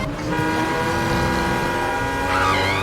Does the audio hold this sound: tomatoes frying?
no